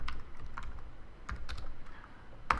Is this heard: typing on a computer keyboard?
yes